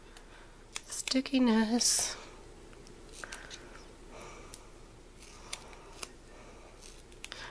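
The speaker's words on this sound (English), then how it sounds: "Let me just trim these corners a little bit." Scissors trim the corners of a 3D butterfly paper card in a few quick snips close by. They sound under a voice, followed by quieter handling and small taps.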